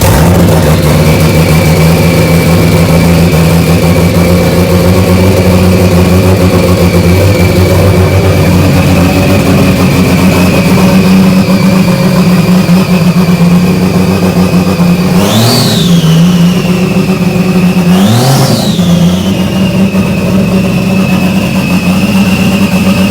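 A Toyota 1JZ engine swapped into a Nissan 240SX running loud and steady at close range, with two quick revs rising and falling partway through, a whine riding over it and no talk.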